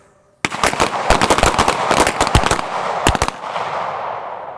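Pistol gunshots crack loud and close during firearms training at a range, a rapid dense volley of many overlapping shots from several shooters, then a last short cluster before fading.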